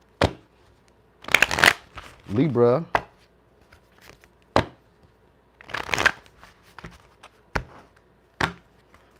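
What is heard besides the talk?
shuffling a deck of tarot cards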